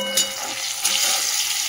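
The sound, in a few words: eggplant frying in oil with turmeric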